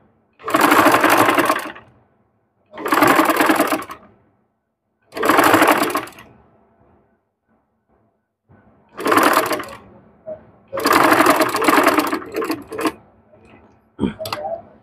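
Sewing machine stitching a checked lungi runs in five loud bursts of a few seconds each, separated by short pauses, with faint clicks in the gaps and no talk.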